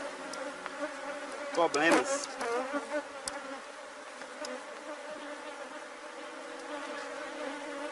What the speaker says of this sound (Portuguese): As abelhas estão mais agressivas do que o normal, que acabou de dar uma chuva.